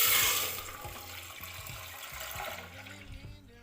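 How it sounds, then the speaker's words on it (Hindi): Milk, one litre, pouring into a pan on a stove for seviyan kheer: a steady liquid splash and gurgle that is strongest at the start and continues for several seconds, with low background noise. "चूल्हे के ऊपर हमने अपने पैन को रखा है और इसके अंदर हम 1 लीटर दूध शामिल करेंगे"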